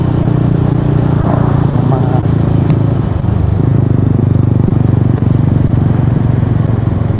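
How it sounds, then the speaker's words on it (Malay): A Honda EX5 motorcycle with a standard exhaust rides along a road in the evening, its mid-pitched engine droning steadily and close up, mixed with wind and road rumble. "Best kalau naik motor exhaust bunyi kuat ni."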